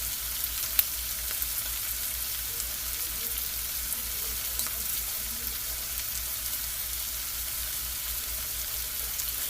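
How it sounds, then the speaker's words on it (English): Flour frying in a skillet as the base for corn chowder makes a steady, even sizzle that holds throughout at a moderate level, close by, with no voices. "So you kind of fry it up a little bit."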